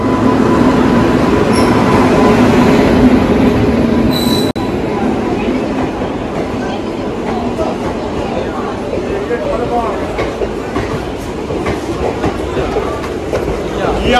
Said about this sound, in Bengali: তো গাইস আমাদের ট্রেন ঢুকে গেছে